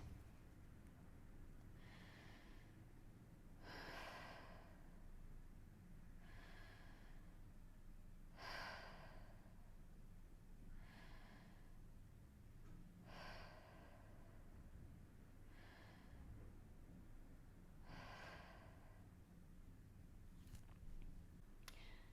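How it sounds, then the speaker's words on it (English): Incorrect chest breathing demonstrated slowly, with about eight audible inhalations and exhalations repeating every two to three seconds, close to the microphone and alone without talk. "Let me first demonstrate the incorrect breathing pattern to you."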